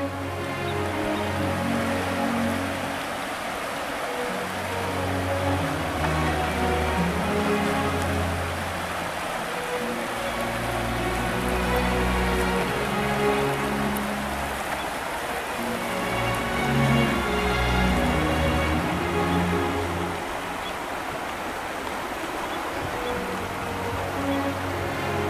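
Rain falls steadily and evenly throughout, a continuous soft patter on a solo bicycle trip, with a low droning hum underneath and no voices.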